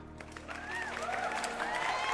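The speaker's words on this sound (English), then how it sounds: "Let me give y'all a round of applause." A round of applause plays back through desktop audio on a streaming setup: a soft, steady crowd clapping and cheering, with rising and falling whistles threaded through it and a faint low hum underneath.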